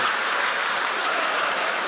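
Audience applause at a mushaira poetry gathering, a steady, dense wash of many hands clapping that holds at an even level throughout, with no voices standing out.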